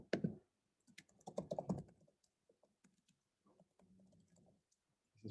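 Keys clack on a computer keyboard in short irregular bursts of clicks, close and fairly quiet, with pauses between the runs of typing.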